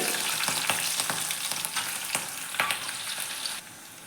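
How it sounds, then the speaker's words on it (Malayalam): Green chilies roasting in a pan for a small-onion curd curry, with a steady close sizzle and frying hiss broken by repeated stirring scrapes, no voices. "അപ്പോൾ പച്ചമുളകെല്ലാം നന്നായി റോസ്റ്റായി വന്നിട്ടുണ്ട്"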